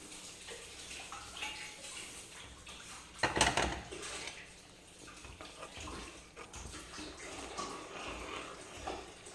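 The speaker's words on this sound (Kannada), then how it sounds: "ರವೆ ಹಾಕ್ತಾಯಿದ್ದೀನಿ." Semolina is poured into a pan of boiling salted water while making mixed rava upma: one brief, loud rush of hissing and clinking about a third of the way in, with steady bubbling and faint kitchen clatter before and after, and no talking.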